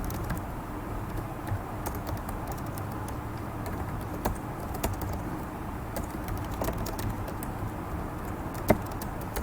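C++ code being typed on a computer keyboard, a quiet, steady patter of key clicks with occasional sharper strokes, continuous throughout and with no voices.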